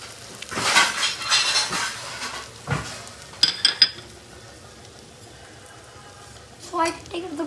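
A plate is picked up and handled in a kitchen while an omelette is made, with a few light clinks and knocks of crockery and cutlery amid a soft pan sizzle and someone talking.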